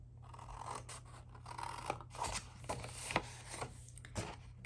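Scissors snip through a sheet of 6 x 6 patterned craft paper along score lines, giving a run of short, crisp close cuts in an uneven rhythm with a faint papery rustle between them.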